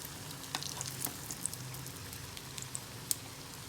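Medu vadas made from MTR instant mix fry in hot oil, giving a steady close sizzle with light pops and crackles spread across the whole stretch, no talking.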